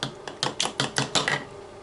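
Eggs being whisked in a bowl, a quick run of about seven crisp, rhythmic clacks of utensil against the bowl, close and moderately loud.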